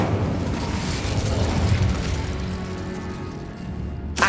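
An Incendio fire spell from Hogwarts Legacy bursts out as a dense, roaring fiery blast that stays loud and broadband for several seconds, ending with a sharp crackle.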